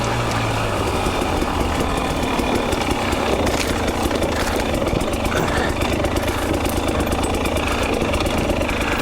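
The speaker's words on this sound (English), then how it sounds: "And let this bike lug and grunt out of the hole." A 2020 KTM 300 XC two-stroke dirt bike lugs at low revs in a deep canyon, a steady, rough, close engine chug that holds nearly constant throughout with no clear rev changes.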